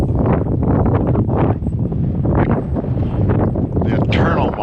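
Strong wind buffeting a phone's internal microphone outdoors at a cold RC airfield, a loud continuous low roar with surging gusts, close and overwhelming throughout.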